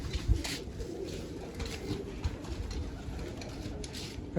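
Pigeons cooing nearby, low soft repeated coos rising and falling in a loose rhythm, moderately quiet, with a few light knocks and rustles among them.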